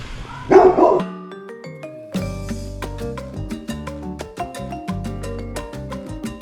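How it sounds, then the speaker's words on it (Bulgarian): A dog gives a single short, loud bark outdoors in a colourful Colombian town, then falls silent while a steady run of tuneful, music-like tones carries on for the rest of the clip. "От всякъде ме ладят кучета, между другото."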